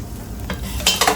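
Hot oil tempering (tadka) sizzles steadily as it is poured over dal in a bowl, with a couple of sharper hissing bursts near the end.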